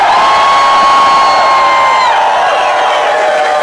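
A club crowd at an Immortal Technique hip-hop show at Club Red in Tempe, Arizona cheers and whistles, a loud, continuous wash of voices with piercing whistle tones over it.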